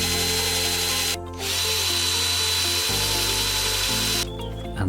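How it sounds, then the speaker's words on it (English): A power drill bores pilot holes through old pallet wood, running loud and steady with a sustained whine that dips briefly between holes. "And then using your drill about 3 pilot holes."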